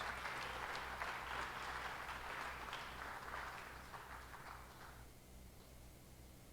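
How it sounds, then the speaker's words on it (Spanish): A church congregation applauds in a dense, steady wash of clapping that fades out near the end, fairly faint overall, with no talk over it. "Denle aplausos al Señor Jesús."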